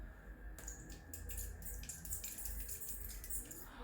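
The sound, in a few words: spraying thermal spring water on face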